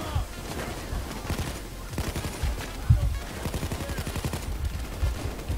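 Gunfire in the heist shooter game PayDay 2, with rapid bursts and steady automatic shots cracking one after another, loud and close, over dense game noise.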